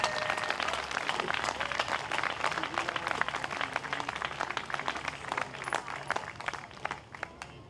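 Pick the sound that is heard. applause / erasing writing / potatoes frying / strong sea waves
applause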